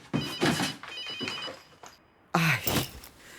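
A telephone rings in an indoor domestic setting, a steady electronic ring with a repeated tone pattern, fairly close, interrupted by a short gap before a louder burst, with clattering thunks around it and no clear talk.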